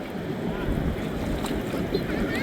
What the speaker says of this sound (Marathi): बघा कसं पाणी येतं आहे